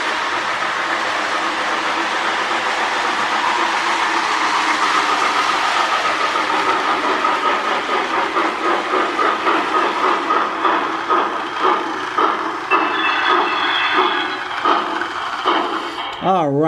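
Lionel 2065 model steam locomotive running on its track, a continuous mechanical whirr with rhythmic clicking from the wheels that grows more pulsed toward the end, close and alone.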